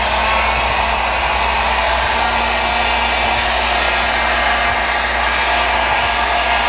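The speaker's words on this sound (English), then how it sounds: "We're gonna go over them with the heat gun real quick just to kind of expedite the process here." A heat gun running on high while drying parts during a budget LS engine swap on a Miata, a loud, steady, continuous airflow roar with a constant motor hum that stays unbroken throughout.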